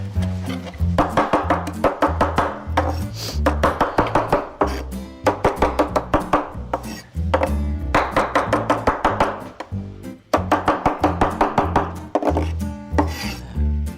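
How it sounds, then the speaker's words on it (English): Knife chopping fresh parsley on a wooden board in a home kitchen, rapid rhythmic close taps in several bursts separated by short pauses. "Now I have time to chop some parsley or whatever else I wanna put in there."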